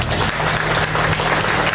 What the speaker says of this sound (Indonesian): tepuk tangan untuk Bapak Ibu sendiri yuk